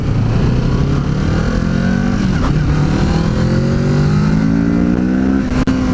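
A Kawasaki Z650 motorcycle on a test ride revs up under acceleration, its engine note climbing steadily in pitch. The engine is close and loud, with one brief dip near the end and no talking.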